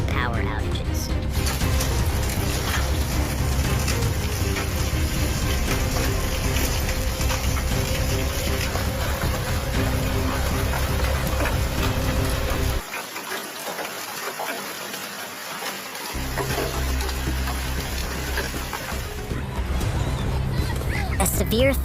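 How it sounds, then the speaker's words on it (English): A loud, steady roar of torrential rain during a Texas storm pours down without letup, briefly dipping in the middle before surging back. "Torrential rain pounded the area"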